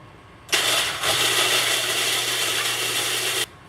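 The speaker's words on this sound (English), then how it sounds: "I'm going to do it a few at a time too, so that you don't overwhelm the food processor." An electric food processor breaks up cookies a few at a time, its motor cutting in abruptly with a loud, steady whirring roar and a brief dip near the start, then running evenly for about three seconds before stopping sharply.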